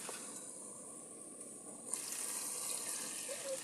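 Water poured into a cooking pot over a high fire outdoors, heard as a faint, steady liquid hiss that grows brighter and a little louder partway through, with no voices.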